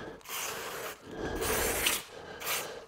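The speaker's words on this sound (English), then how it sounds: "so we can spray it like this" Anti-corrosive Teflon spray hisses from an aerosol can onto a gun in three close bursts separated by short pauses, with no talking.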